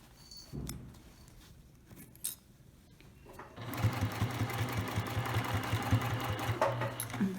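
After a few quiet handling taps, a sewing machine starts up and runs steadily, stitching a lined tote bag with boxed corners. The fast, even needle chatter stays close and clear, and no one speaks.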